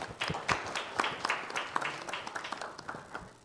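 An audience applauds panelists at a ward 5 councillor candidates' debate: a steady patter of many hands clapping at once, fairly quiet and even, continuing for several seconds with no one talking.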